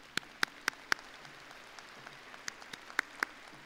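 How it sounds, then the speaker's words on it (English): At a summer university commencement, a handful of distinct, sharp claps ring out over a faint background patter of scattered applause in a large hall. "Let's give them a round of applause"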